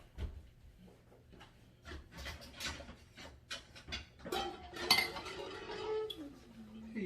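Metal cutlery clinking and rattling in a kitchen as a spoon is fetched, with close, irregular chinks and scrapes against dishes and a few louder knocks, plus some light breathing.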